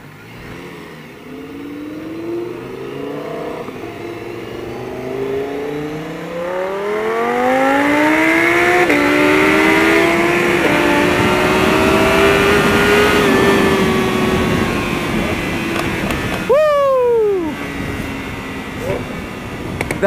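A Lamborghini Huracan accelerates at high throttle from inside the cabin, its engine note climbing steadily through the gears with a loud sustained roar and a sharp shift near the end, while occupants talk over it.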